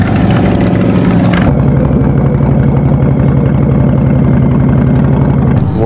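A motorcycle engine runs steadily and loudly close by at a biker rally camp, a constant low rumble with a brief shift in tone early on and no talking.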